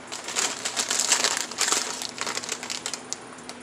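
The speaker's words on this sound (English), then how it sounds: "crush up my Oreos in this bag" Oreo cookies being crushed inside a clear Ziploc bag, a steady close-up stretch of crunching, crackling and plastic crinkling with no talk.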